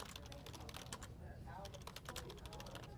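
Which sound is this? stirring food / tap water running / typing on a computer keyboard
typing on a computer keyboard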